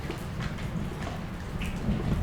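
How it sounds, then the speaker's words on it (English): Monsoon rain pouring steadily, a dense close wash of drops with scattered brighter spatters and a low rumbling undertone that swells slightly toward the end, with no speech. "Raining. Monsoon. It will pass."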